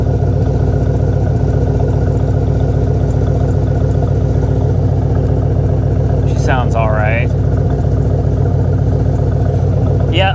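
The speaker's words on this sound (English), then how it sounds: "Let's take a listen to these mufflers back here" A 2017 BMW M240i idles with its exhaust heard close at the rear mufflers, giving a steady, even low drone throughout, with a brief higher sweep partway through.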